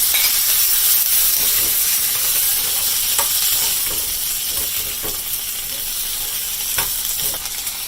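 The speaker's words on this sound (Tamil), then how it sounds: "வெங்காயம் பாதி வந்துடுச்சு இப்போ சுண்டல் சேர்த்துட்றேன்" Chickpea sundal is stirred and fried with onions in a pan, giving a loud, steady close sizzle and hiss with occasional scraping stirs and no speech.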